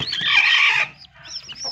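Turkeys and newly hatched turkey chicks on a farm in Darrang, Assam give a loud, dense run of high clucking calls, then a short lull before fainter, scattered peeping chirps resume close by.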